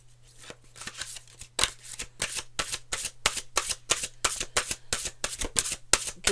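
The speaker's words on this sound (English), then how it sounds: "Okay, one more shuffle." Large oracle cards are shuffled in a quick series of crisp, riffling snaps, about a dozen close bursts in an uneven rhythm over a faint steady hum.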